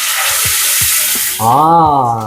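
Garlic fries in hot oil with a loud, dense crackle and sizzle up close; toward the end a voice breaks in over the frying.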